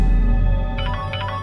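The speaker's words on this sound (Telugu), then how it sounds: "ఫోన్ రింగ్ అవుతుంది చూడవే." A telephone ringtone plays in a home setting, a repeating electronic ring pattern that starts partway through and pulses in short bursts over a steady low background hum.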